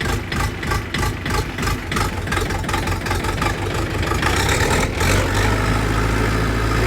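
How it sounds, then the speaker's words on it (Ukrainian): A new Belarus 404 compact tractor's engine runs steadily at idle, a close, continuous low diesel rumble with a rhythmic throb, heard alone. "спробуємо, як то воно на новенькому тракторцьові"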